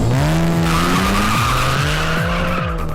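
Ferrari V12 car fitted with an aftermarket exhaust, accelerating hard with a loud, close, rising engine howl and a squealing overtone held for several seconds.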